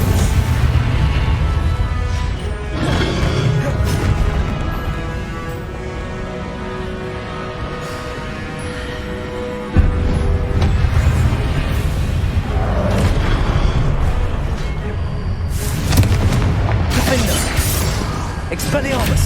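Confringo fire-spell blast in the Hogwarts Legacy video game, a loud booming burst over dense, rumbling battle effects and music, with a sharp impact partway through and crackling debris afterward; a voice calls out over it.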